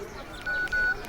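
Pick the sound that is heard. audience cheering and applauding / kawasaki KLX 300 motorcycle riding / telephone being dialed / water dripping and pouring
telephone being dialed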